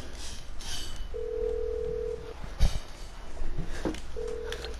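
A steady telephone tone sounds twice inside the video game Grand Theft Auto 5, a longer beep followed by a shorter one, set over low background hum with a brief thump between them.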